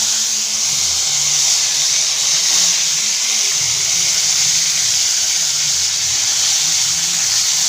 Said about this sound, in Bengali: ওই তেলে দিয়ে আমি আলুগুলো ভেজে নেব